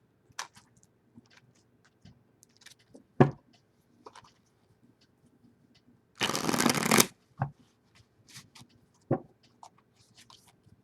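A deck of tarot cards shuffled during a reading: one loud, close riffle burst lasting under a second, surrounded by quieter card taps and handling clicks in a quiet room.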